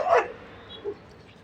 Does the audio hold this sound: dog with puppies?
yes